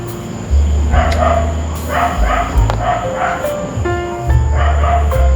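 A dog barks and yips repeatedly in loud, close bursts, with some whimpering tones mixed in over a rumbling background.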